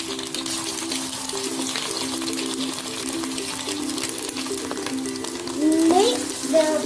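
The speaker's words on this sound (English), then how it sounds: "My mother is going to fry it." Egg fritters fry in preheated oil, giving a continuous loud bubbling hiss under a steady melodic background tone, with a brief rise in sputtering near the end.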